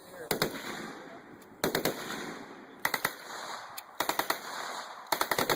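Bursts of machine-gun fire from a Lottie, several short rapid volleys spaced a second or so apart, loud and sharp over steady background noise.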